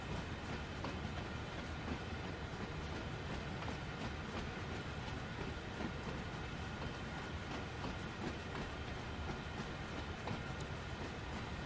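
Freight cars roll along in the Train Sim World 2 game during switching at Sherman, a continuous rumble with steady wheel clatter, moderately loud and with no voices.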